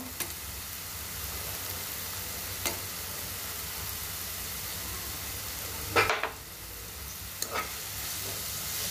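Carrot halwa cooks in ghee with cashews and raisins, giving a steady soft sizzle with occasional stirring scrapes and a louder clatter partway through.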